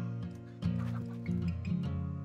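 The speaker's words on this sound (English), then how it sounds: "Chicken! Do something! Attack or something! Chickens! Attack!" A chicken in the Roblox Bedwars game clucks loudly and repeatedly in short, bright bursts over a steady droning game background.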